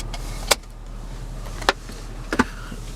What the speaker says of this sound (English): Cup holders, you just push the little chrome there, and it just opens for you.